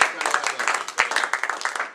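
Audience applause at a poetry reading, a short burst of brisk clapping with voices mixed in, fairly close and steady for two seconds.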